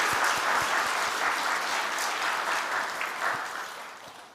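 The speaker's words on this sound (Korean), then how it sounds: "다시 한번 우리 귀한 분들 위해서 박수로 환영할까요?" A church congregation at a Sunday service claps steadily for a few seconds to welcome guests, the applause gradually thinning out toward the end.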